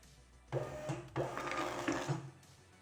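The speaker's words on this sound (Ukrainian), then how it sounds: "можемо надрукувати зараз вже пробну сторінку, щоб переконатися, що все добре" An Xprinter 470B label printer running a test page: two short mechanical feed bursts followed by a longer whirring print pass of about a second, close and fairly quiet, with no talk.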